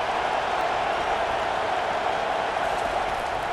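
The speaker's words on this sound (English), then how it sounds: "This crowd rising up, sensing that its defense needs some help." A stadium crowd in the video game College Football 25 roars in a dense, unbroken wall of noise that holds steady and loud for the whole stretch, without a clear voice on top.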